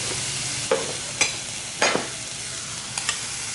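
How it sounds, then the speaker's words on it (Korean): Meat stir-fries in a pan over high heat, a steady sizzle broken by a few sharp scraping strokes of a spatula, close and fairly loud, no talking. "센 불에 재빨리 볶아주셔야 돼요"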